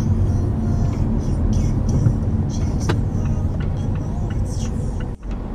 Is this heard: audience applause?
no